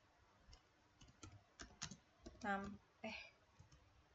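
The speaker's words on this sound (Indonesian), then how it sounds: "Udah ya udah, kita ngetik lagi." Typing on a computer keyboard, close, scattered key clicks in short irregular bursts, with a brief voiced sound breaking in partway through.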